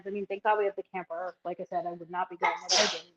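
Someone talks casually about camping, then a quick, breathy sneeze bursts out close to the microphone right at the end of her sentence.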